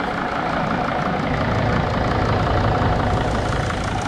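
A Mercedes T1N Sprinter van engine idles steadily after reassembly, a close, continuous low rumble with an even, unchanging drone throughout and no voices.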